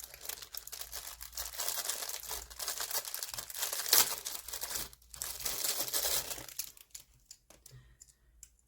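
Crinkly plastic packaging of a diamond painting kit being opened, a steady close rustle and crackle lasting several seconds before tapering into a few sparse crinkles.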